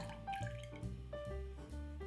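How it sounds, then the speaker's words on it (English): Milk pours into a saucepan with a light sugar coating on the bottom, making a close, gurgling, trickling sound with small uneven splashes and glugs, and nobody talks over it. "Then pour in 2 cups of milk."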